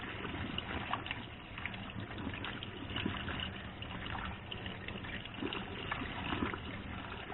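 Cold water runs and splashes over pickled northern pike pieces being rinsed in a strainer, a steady trickling flow with small irregular splatters throughout.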